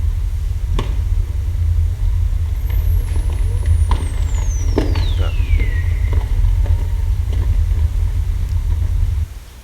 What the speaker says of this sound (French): je vais vous faire écouter quelques petits exemples de phoques.